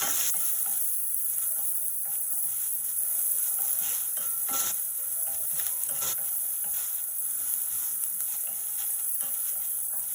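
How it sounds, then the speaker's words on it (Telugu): Onions sizzle in a pan as they fry toward golden for a tomato chutney, a constant soft crackle with occasional scraping stirs, no voices over it. "ఇప్పుడు ఇది గోల్డెన్ ఫ్రై అయిన వరకు, అంటే ఉల్లిపాయలు మనకి బాగా వేగిపోవాలి"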